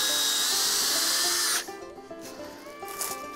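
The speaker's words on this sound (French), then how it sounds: "De nos jours, c'est une perceuse électrique" Electric drill boring a tap hole into a maple tree at a sugar bush: a high-pitched whirring drill runs steadily for about a second and a half, then cuts off, leaving quieter knocks and rustling nearby.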